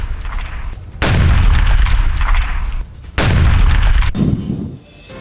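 Missiles launch during a Russian navy and aerospace forces drill in the Mediterranean, heard as two very loud, sudden roaring blasts, each sustaining a dense rushing thunder for a couple of seconds before cutting off.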